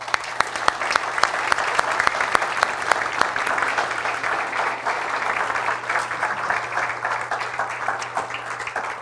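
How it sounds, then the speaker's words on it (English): Sustained applause from a conference audience honoring the speakers after a debate session, dense steady clapping filling the room without pause for about nine seconds, with no talk over it. "Let's give these guys a round of applause"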